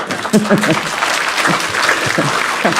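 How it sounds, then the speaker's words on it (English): Audience clapping during a spiritual lecture, a loud dense burst of applause from a hall full of listeners, with a few voices calling out over it. "When I praise you, you clap, eh?"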